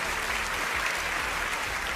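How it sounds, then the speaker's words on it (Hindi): Students in a TV debate studio applaud, a dense, even burst of many hands clapping together, close and continuous for the whole moment. "यहाँ पर मौजूद सभी छात्रों का तालियों के साथ बहुत बहुत"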